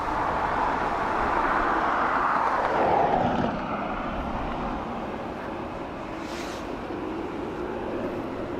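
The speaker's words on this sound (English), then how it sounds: "As we wait for our Ryanair 737-800 coming in from Alicante." A Ryanair Boeing 737-800 inbound from Alicante approaches Dublin Airport, its jet engines making a distant, steady roar that swells slightly and then holds at a broad, moderate rumble.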